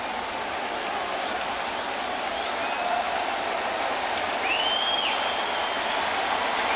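Stadium crowd at a Yankees home game against the Astros cheering and applauding in a steady, dense roar, with a few faint whistles rising above the wash of noise.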